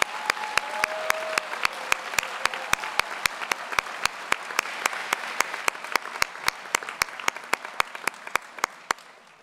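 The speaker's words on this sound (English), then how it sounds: "Let's give everyone a round of applause." At a college commencement ceremony, sharp claps close by land in an even, rapid rhythm over a softer bed of general applause that thins toward the end.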